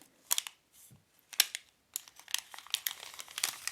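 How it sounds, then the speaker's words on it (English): Scissors snip through a plastic packet that holds a Bewish Milanese watch band, giving close, crisp crinkles and cuts in short separate bursts that grow busier toward the end. "So let's cut open the plastic packet"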